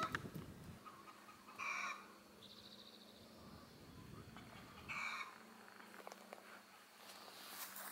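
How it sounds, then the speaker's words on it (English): Faint chickens clucking in the distance on a farm, a couple of short bursts of calls over a quiet outdoor background. "I have chickens and goats."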